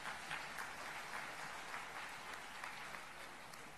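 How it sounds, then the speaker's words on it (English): An assembled audience gives sustained applause to welcome the Chief Minister of Kerala at an inaugural event, a steady wash of many hands clapping together for the whole stretch. "Please give him a very big round of applause."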